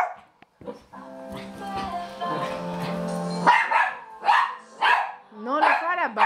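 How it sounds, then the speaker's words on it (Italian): A dog barks repeatedly at close range, sharp yelping barks in a quick uneven run with whiny tones and a whimper, loud against quiet surroundings. "Non lo fare abbaiare."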